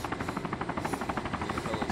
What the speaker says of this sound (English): Oh shit, helicopter.